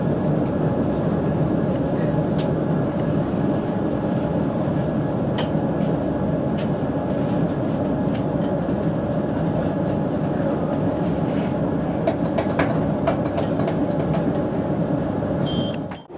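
A train running along a railway line near a station in the Birmingham area, heard from on board as a steady, loud rumble and hum throughout, with occasional clicks and squeaks from the track.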